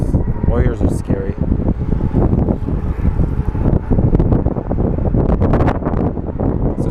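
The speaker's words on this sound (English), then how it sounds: "So it's kind of a windy day today" Wind gusts buffet the microphone on a windy day at Sky Harbor International Airport in Phoenix, a loud, continuous rumbling roar with no talk over it.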